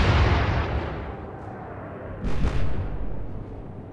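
Naval guns firing in the warship strategy game Atlantic Fleet, a deep booming salvo rolling into a low rumble, with a second burst of blasts midway through and no talk over it.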